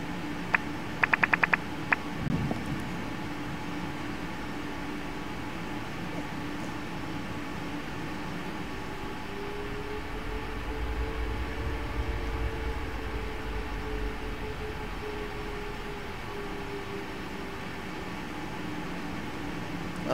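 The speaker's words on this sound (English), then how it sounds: "I'm gonna let you guys listen to the engines, just on this taxi out to the runway" Boeing 777 jet engines taxiing in Microsoft Flight Simulator X, a steady faint turbine whine with a slowly rising and falling tone, a few brief clicks near the start.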